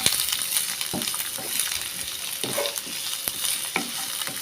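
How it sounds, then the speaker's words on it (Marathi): Long-cut onion sizzles steadily in a pan with garlic, a constant bright frying hiss broken by repeated stirring scrapes and clinks of a utensil. "आतां तितून हांव तो लांब पियाव खातलो न्हू तो घाता आनी तोय बरो फ्राय कोता"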